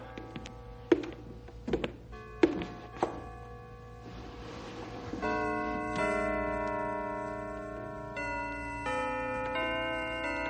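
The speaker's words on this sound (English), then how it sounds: "the bells are playing" Bells ringing in an old-time radio drama: a few struck clangs at first, then a sustained run of pealing bell tones that rings on steadily and fairly loud.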